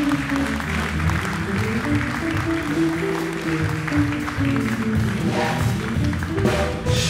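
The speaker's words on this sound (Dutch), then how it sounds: "Dames en heren, een hartelijk applaus voor Bart Jacobs." A late-night talk show studio audience applauds a guest, a steady wash of clapping layered over music playing throughout.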